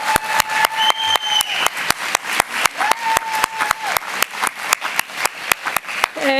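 An audience claps steadily for Alexandra at a youth conference, a continuous patter of hands lasting several seconds. A few sustained whistling tones ride over the clapping, and no one speaks.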